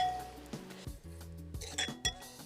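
A spoon scraping and clinking against a dish while garam masala spice paste is spooned over paneer, a few soft taps and metallic chinks over a faint steady background hum.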